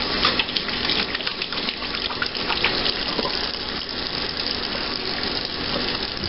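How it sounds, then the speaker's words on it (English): A kitchen sink faucet runs steadily while hands are washed beneath it, a continuous close splashing rush of water with small irregular spatters and no talking. "Okay, I'm going to wash my hands."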